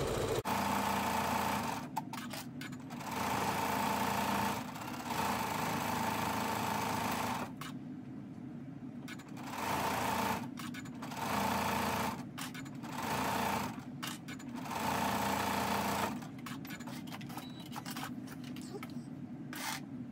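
Sewing machine stitching a quilt border with a prairie point edge, loud steady whirring runs in repeated bursts of a couple of seconds each, separated by brief pauses.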